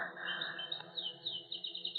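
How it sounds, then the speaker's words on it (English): Caged birds chirp in quick, bright repeated tweets within a 1949 radio mystery drama, a short, fairly faint burst over a quiet steady background. "Those birds, I don't like them."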